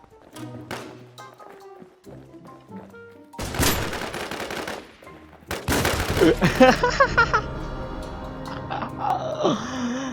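A shotgun fires at close range in the game Infestation The NewZ, with two loud, abrupt blasts a couple of seconds apart, each followed by clattering mechanical noise and tonal in-game effects.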